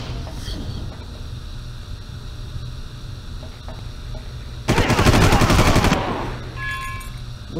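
Far Cry gunfire: a loud sustained burst of automatic fire of about a second stands out against a steady ambient hum, with fainter shots scattered around it.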